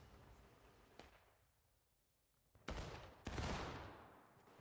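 Musket volleys crack out in the Civil War battle game War of Rights, with a few sharp distant shots followed by two loud, close bursts of massed rifle fire that echo and roll away.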